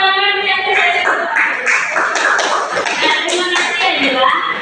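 A class of students clapping hands in a classroom, a busy stretch of overlapping claps mixed with children's voices throughout.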